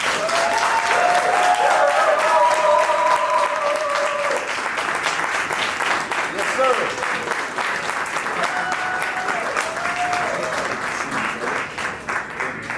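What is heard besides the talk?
audience applause for Ryan Coogler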